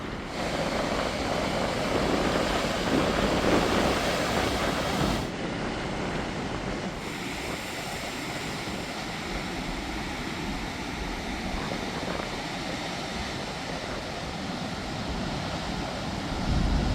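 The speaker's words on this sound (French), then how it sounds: "Regardez-moi ça, la puissance des vagues. Elles sont énormes ici, vraiment énormes." A continuous heavy roar of huge crashing ocean waves, loud and broadband, rising and falling slightly with no voices.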